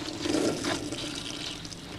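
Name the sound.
liquid poured down a sink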